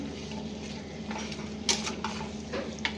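Chicken and ginger-garlic paste being stirred in a pan, with soft scraping and a few sharp clinks of the utensil against the metal over a faint steady sizzle, close and unhurried.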